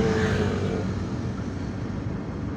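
A fully loaded truck carrying sengon timber drives ahead on the road, its engine a steady low rumble with road noise, heard from a following vehicle.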